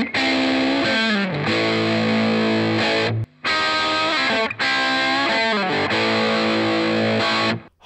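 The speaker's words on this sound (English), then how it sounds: "Hard rock rhythm, humbucker." Electric guitar with a humbucker pickup, played through a Nobels ODR Natural Overdrive Mini pedal in a hard rock rhythm part, loud, thick driven chords in chugging bursts with short breaks, no voices.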